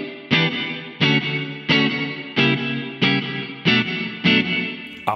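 Electric guitar played through a Baby Audio Crystalline algorithmic reverb set to a medium room: eight evenly spaced, bright strummed chords, each ringing with a lush reverberant tail into the next, loud and alone.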